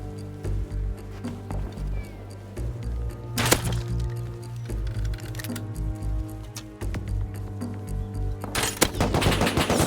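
AK rifle gunfire in a video game, rapid rhythmic bursts of shots repeating through the clip with sharp louder cracks near the middle and end.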